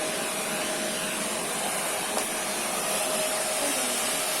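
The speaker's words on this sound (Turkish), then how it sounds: "Elektrik süpürgesini o kadar çok seviyor ki Bartu, sürekli annesine yardım ediyor." A child runs an electric vacuum cleaner around a home, producing a steady, unbroken motor whir with a faint thin whine that holds at one level throughout, with no talk.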